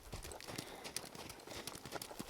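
Hooves clip-clop steadily on the ground as a horse works cattle, a rapid, fairly faint rhythmic patter of footfalls with no talking.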